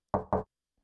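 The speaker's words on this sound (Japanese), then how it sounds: "目の前の扉が叩かれて思わず中腰になる。" Two quick, solid knocks on a door in the PSP mystery game Amagoushi no Yakata, close and distinct, followed by silence.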